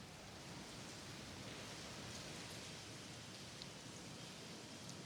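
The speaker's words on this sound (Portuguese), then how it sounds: "E, Caterina, a gente vê aí que chove neste momento em São Paulo." Moderate rain falling over São Paulo, a steady even hiss of drops with no breaks, fairly faint and heard alone without voices.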